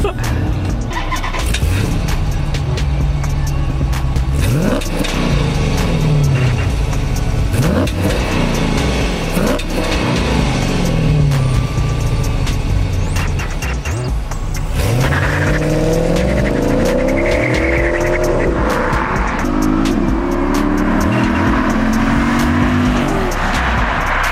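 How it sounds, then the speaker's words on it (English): A 2012 Chrysler 300 SRT8 accelerates hard, its engine revving up and shifting through rising and falling sweeps, loud and close, with a brief voice heard over it. "What's it like driving a Chrysler 300 SRT8 2012 model?"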